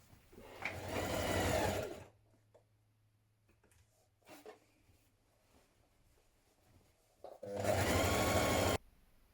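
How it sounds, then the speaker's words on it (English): A sewing machine runs in two steady bursts, top stitching a curve on a collared hoodie-style top, with a quiet pause of faint handling between them. "we're going to top stitch that curve"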